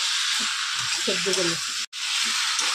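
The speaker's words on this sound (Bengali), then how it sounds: "নেড়ে চেড়ে একটু কষিয়ে নেব মশলার সঙ্গে" Vegetables frying with spices and tomato in a pan for pabda fish curry with radish and potato, a steady close sizzling hiss with a brief stir and a short break, a voice faintly heard underneath.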